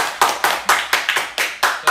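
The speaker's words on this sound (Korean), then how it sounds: "박수." A few members of a newly debuted rock band clap on their first livestream: about eight sharp, close hand claps in a quick, even rhythm, each decaying briefly before the next.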